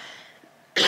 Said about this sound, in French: je sais pas pourquoi je tousse